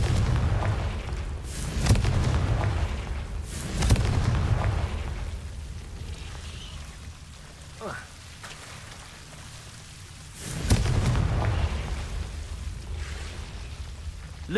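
Booming spell blasts from the Confringo fire curse in the Hogwarts Legacy video game, a few loud bursts with rumbling low-end tails, separated by quieter stretches of rain-like ambient hiss.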